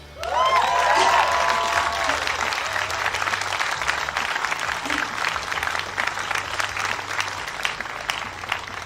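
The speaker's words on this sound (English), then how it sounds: "can you give yourselves a round of applause?" A crowd at the March for Science in London breaks into loud, sustained applause that holds steady before slowly thinning, with a few cheers mixed in near the start.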